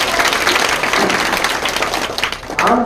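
Loud, close applause from a crowd at a district-level school sports and arts event, with steady dense clapping throughout and a brief surge at the end.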